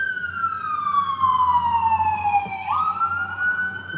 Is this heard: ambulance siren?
yes